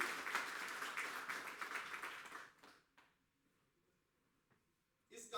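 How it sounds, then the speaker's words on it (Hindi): Audience applause at a Hindi youth poetry gathering for the Indian community in the UK: a dense burst of clapping that fades out after about two and a half seconds, followed by near silence and a brief sound at the end. "एक बार जोरदार तालियां"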